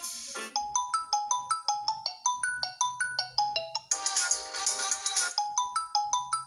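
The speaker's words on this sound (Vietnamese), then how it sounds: "Ở đây là âm thanh mặc định của Mi nè." Default Xiaomi ringtone playing from a Redmi Note 8 phone: a bright, repeating electronic melody of quick chiming tones, steady and fairly loud, continuing without pause and growing fuller midway.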